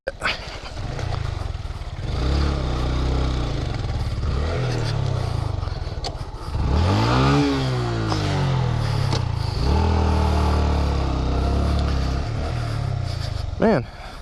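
A Honda Grom motorcycle on dirt tires rides off-road, its small engine revving close and loud in rising and falling sweeps as it shifts. The rider talks over the engine noise.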